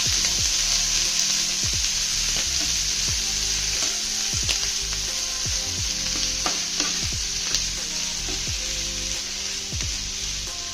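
Chopped spinach for thoran frying and being stirred in a pan: a constant bright sizzle with irregular scrapes and clinks of a spoon, close and loud, with no voices.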